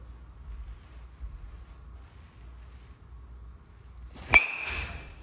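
An orange and red BBCOR baseball bat strikes a ball once with a sharp, ringing crack that rises above a quiet windy background and then fades as a brief metallic tone.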